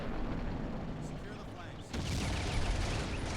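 Gunfire crackles in the World War II strategy game Combat Mission: Beyond Overlord, a sustained rumble of distant shooting and bursts that swells louder partway through.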